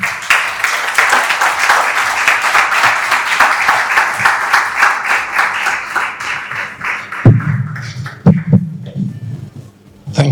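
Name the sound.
audience applause welcoming a speaker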